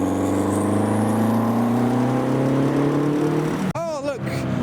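A Renault 5 Turbo's engine drones loud and near with a slowly rising pitch, then abruptly cuts off into a brief sweeping whine as the car passes.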